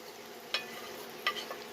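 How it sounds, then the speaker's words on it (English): Faint, steady sizzle of chili frying in a pan, broken by two brief clinks of a utensil stirring, with no talking. "Uh-oh, she's quitting sizzling."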